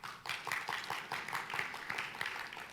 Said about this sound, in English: So I think it's a big applause to the GIS team.